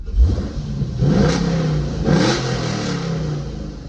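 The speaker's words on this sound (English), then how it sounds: "I guess I'll do a revving clip inside the car too" A 2011 Chevrolet Camaro 2SS/RS V8 revs twice, heard from inside the cabin with the exhaust cutouts closed. Two strong throttle blips rise and fall over a steady idle, loud and close, with no talking.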